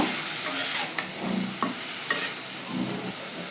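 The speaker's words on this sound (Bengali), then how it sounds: "ভাজিটাকে একটু লেড়ে ছেড়ে দিব" Green tomato bhaji frying in a pan is stirred with a spatula, giving a constant sizzle with intermittent scraping and stirring strokes, close and moderate in level.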